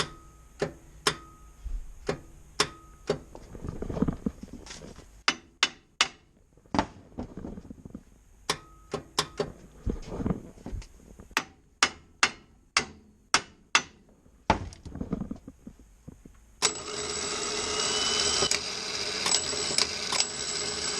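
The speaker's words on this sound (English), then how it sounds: "Eric got the starter all set up on the machine, and we will see how bad it is" A rally car starter motor, in poor condition, is run on a test machine: a series of sharp mechanical clacks and knocks at uneven intervals, loud and close, ending in a sustained whirring grind.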